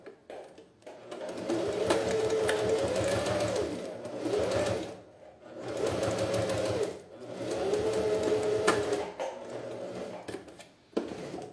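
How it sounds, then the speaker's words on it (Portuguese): A sewing machine stitches fabric for a beach pouch in steady whirring runs, with three long bursts separated by short pauses, close and fairly quiet. "Eu vou costurar deixando uma folga de meio no início"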